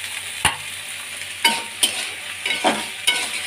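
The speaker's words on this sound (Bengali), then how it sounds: "এখানেও আলু পেঁয়াজটা ভাজা হচ্ছে।" Potatoes and onions frying in a pan, a soft steady sizzle close by, broken by five or six sharp scraping clacks of a spatula stirring them.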